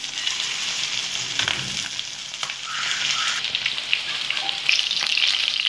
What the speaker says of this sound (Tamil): இப்போ எண்ணெய் வந்து ஹீட் ஆகிடுச்சு, நம்ம இந்த சிக்கன் பீஸை போட்டுக்கலாம்.